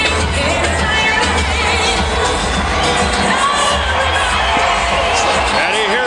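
A boxing arena crowd roars and cheers continuously for Evander Holyfield before his rematch with John Ruiz, dense shouting and whoops filling the whole stretch while a commentator speaks over it.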